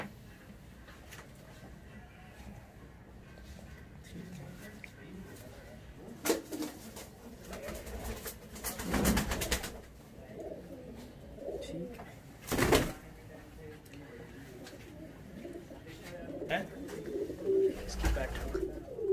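Pigeons of an Indian breeder's flock cooing softly on a rooftop, scattered low calls with a few sharp flaps or knocks, while someone talks intermittently nearby.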